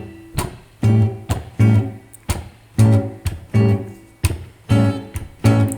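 Jazz blues chord progression strummed in rhythmic, evenly spaced chord hits, each ringing briefly before the next, played alone and close with no talking.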